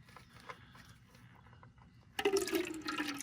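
CVT transmission fluid pouring from the drain plug of a 2016 Subaru Outback with a 2.5 L engine, a sudden gushing splash into a container that starts partway through and keeps running after a quiet stretch.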